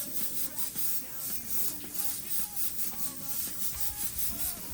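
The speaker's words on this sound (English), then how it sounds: "this is just artist ink and the Harbor Freight Avanti airbrush" Harbor Freight Avanti airbrush spraying artist ink, a steady close hiss of air that swells and eases in short pulses, with faint background tones beneath.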